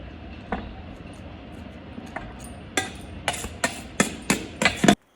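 A knife cuts into a hard pumpkin, giving sharp knocks and cracks that come faster and louder toward the end, over a quiet background.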